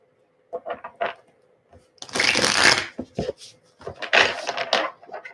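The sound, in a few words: shuffling tarot cards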